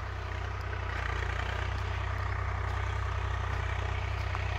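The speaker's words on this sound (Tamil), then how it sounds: "ஓ, நிழல்ல பார்க் பண்ணுறாரு ப்ரோ வண்டியை." A Swaraj 744 tractor idles steadily while parking in the shade, its low diesel rumble holding an even, unbroken drone close by with no talk over it.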